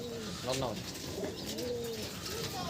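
Andhra Madrasi pigeons coo in a loft, with several overlapping low, rolling coos and soft chirps against a steady background hum, close and continuous.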